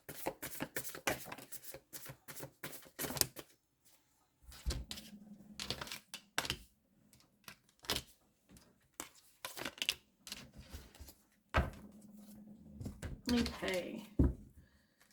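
Tarot cards being shuffled by hand, with crisp riffling and slapping bursts in irregular clusters, close and fairly loud, interrupted by brief pauses and a short spoken word.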